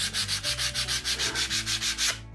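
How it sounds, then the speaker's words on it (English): Sandpaper is rubbed by hand across the grain of wood on a build-it-yourself model biplane, about a dozen quick, even back-and-forth scratchy strokes in a steady rhythm, close and alone. "If we sand against the grain like this"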